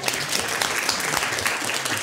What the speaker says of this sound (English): A round of applause for the beautiful bridesmaid.